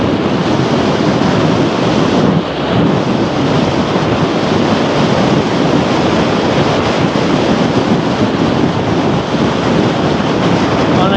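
Strong wind gusting across an outdoor microphone, a loud continuous roaring buffet that stays heavy throughout, with no clear voices over it.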